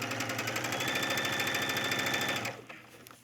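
A sewing machine runs steadily, stitching a gathered collar onto a top, a fast even mechanical chatter for about two and a half seconds before it stops abruptly, leaving a brief quiet tail.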